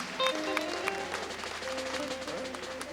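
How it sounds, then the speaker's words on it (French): A church congregation at a New Year's Eve revival service applauding and cheering for Jesus Christ, with sustained crowd clapping and voices under music, steady and moderately loud. "Donne une grande acclamation à Jésus-Christ"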